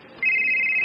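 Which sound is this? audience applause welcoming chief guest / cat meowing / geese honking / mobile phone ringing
mobile phone ringing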